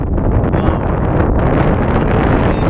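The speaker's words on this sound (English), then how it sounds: "you can see the wind blowing really crazy" Strong wind blowing over a reservoir while fishing from a boat, a loud, constant roar of wind buffeting the microphone close up.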